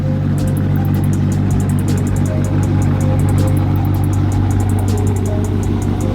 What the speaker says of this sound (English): We're gonna tighten up the lugs and then drive it out in the driveway and see how it looks.